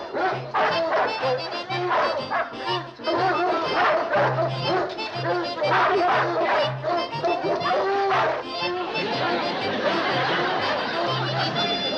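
Dog barking repeatedly in short yips and bow-wows on a muddy farm, close to the listener, mixed with people talking, chatter and some laughter throughout.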